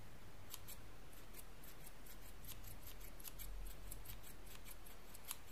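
Scissors snip through crepe hair while a fake beard is trimmed and shaped, giving a steady run of crisp, close, quiet cuts about every third of a second with no talking.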